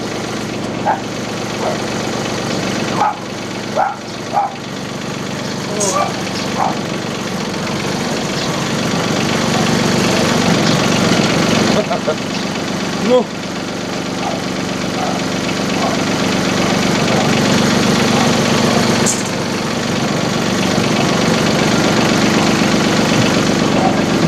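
A homemade cultivator's engine runs steadily with a loud, rough knocking drone that swells slightly as it works on. A few brief knocks and voice sounds rise above it.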